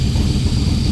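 A Back Draft Cobra 427 engine idles nearby, a loud, steady low rumble with no talk.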